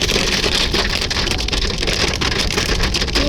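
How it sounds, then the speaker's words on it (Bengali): Hail pelting a mountain road in Darjeeling, a dense, loud, continuous patter of hard drops with no letup and no voices. "এখানে হচ্ছিল শিলাবৃষ্টি"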